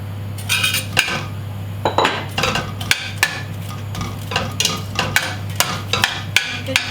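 Onions tossed into a pan and worked with metal utensils: a steady run of sharp clanks and scrapes against the cookware, close and loud, with a low steady hum underneath.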